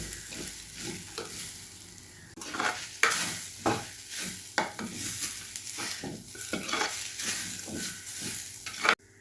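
Curry leaves sizzle in hot oil for a roasted-coconut ginger curry, a close crackling fry broken by repeated rhythmic scrapes of a spoon stirring against the pan.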